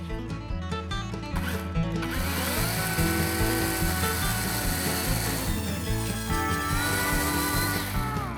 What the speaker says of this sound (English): I know we all want to see what the chainsaw is going to do to it.